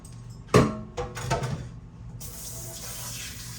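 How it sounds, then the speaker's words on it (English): Water runs from a kitchen sink tap as hands are rinsed, starting with a few splashy knocks and then settling into a steady close stream. "Rinse these hands off, y'all."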